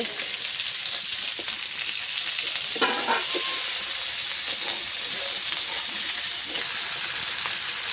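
Fish sizzling and frying in a pan at home, a steady broadband crackle throughout with a brief louder burst of spatter as the fish is turned over near the middle.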